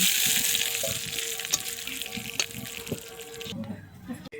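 Hot spiced tempering poured over a pot of Bengali-style mixed vegetable dal, giving a steady close sizzle with a few soft clinks, fading to quieter bubbling near the end.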